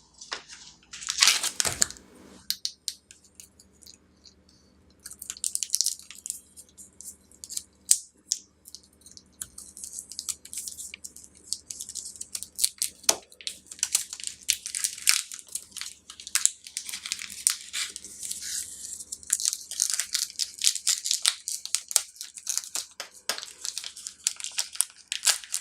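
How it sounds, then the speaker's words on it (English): Chinese sausage is cut and pulled free of its plastic package, a run of close crinkling, crackling plastic with snips and rustles that continues in irregular bursts with no talk. "I'm gonna cut it out of the package"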